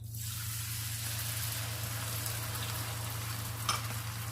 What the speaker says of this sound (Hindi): घी गर्म हो गया है, मैं इसमें इलायची डाल दूंगी। अब हम इसमें शामिल करेंगे चीनी, साथ ही इसमें शामिल करेंगे हम आधा कप दूध।